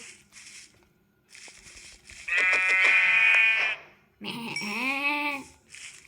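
Minecraft sheep bleat in a quiet blocky game world: a short faint call, then two loud wavering bleats close by, separated by brief pauses.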